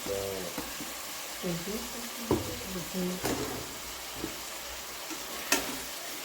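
Tomatoes sautéing and being stirred in a pan for Tamil-style tomato rice, with a soft steady sizzle and occasional utensil scrapes and clinks. A voice talks briefly near the start.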